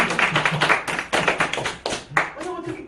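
A group at a healing-health instructor seminar claps in short repeated bursts, crisp hand claps in a steady beat at close range, with voices talking over them.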